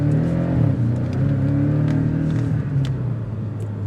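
Porsche 718 Cayman S engine pulling hard under acceleration, a loud, steady low growl close by with rising pitch and crackling exhaust burbles layered through the roar, no talking.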